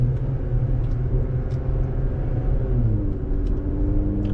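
Jeep Gladiator engine with a RaceChip XLR throttle controller, a close, steady low rumble with a subtle rise in pitch as the throttle is pressed, continuous with no speech.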